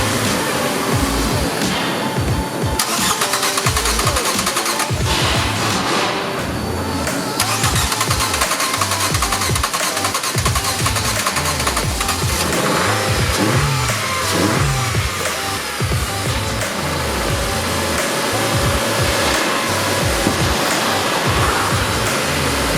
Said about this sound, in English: let's start the car up.